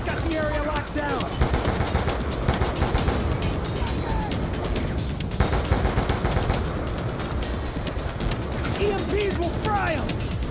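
Turret machine-gun fire rattling in sustained, dense bursts in the Call of Duty Black Ops 2 video game, loud and continuous across the whole span, with game voices shouting over it.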